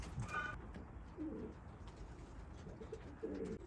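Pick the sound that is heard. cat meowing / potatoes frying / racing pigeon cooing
racing pigeon cooing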